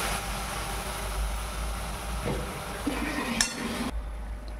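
Spice paste for handi chicken stirred and fried in a pot on a gas stove, giving a steady low frying hiss with soft scraping stir strokes and a couple of faint clinks near the end, no voices.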